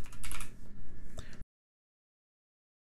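Typing on a computer keyboard: a quick burst of close, clattering keystrokes for about a second and a half, then silence.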